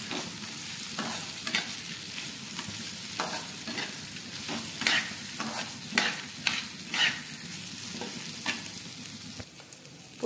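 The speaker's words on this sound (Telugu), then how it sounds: "దీనిలో హాఫ్ కప్ పుట్నాలు అయితే వేసుకొని వీటిని కూడా బాగా ఫ్రై చేసుకోవాలి" Half a cup of roasted gram (putnalu) frying in hot oil tempering, with a steady sizzle and repeated scraping, clinking stirs of a spoon against the pan throughout.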